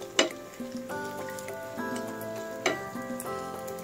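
Biko with pili nuts cooking in plenty of oil, a soft continuous sizzle under sustained musical tones, with a couple of sharper clatters from stirring.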